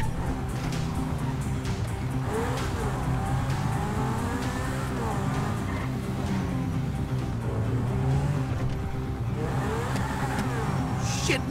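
Car engine revving hard with brief tire squeals during a Grand Theft Auto V chase, a steady loud motor drone with rising and falling pitch sweeps running throughout.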